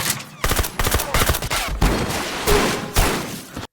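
Rapid bursts of gunfire in a film shootout as a bank robbery crew opens fire, loud repeated shots crackling close together over about four seconds with no talk.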